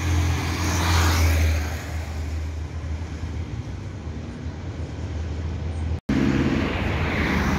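A worn-out BRT articulated bus runs through Rio de Janeiro with a loud, constant engine drone and road rumble from inside, a heavier surge at the start and a sudden brief cut near the end.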